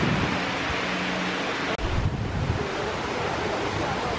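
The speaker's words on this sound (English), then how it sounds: "Look at the river." Rushing water of the Martha Brae River in Jamaica, a steady broad wash mixed with wind buffeting the microphone, loud and continuous throughout with one brief dropout partway.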